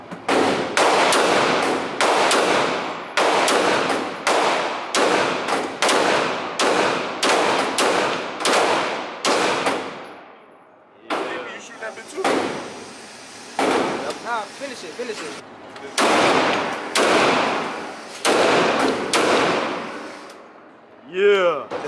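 Rapid bursts of gunfire from a Draco at a gun range, loud and close, firing in quick repeated strings with brief pauses between volleys and voices in the gaps.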